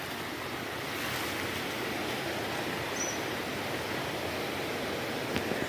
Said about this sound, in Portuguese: A cachoeira é grande, hein?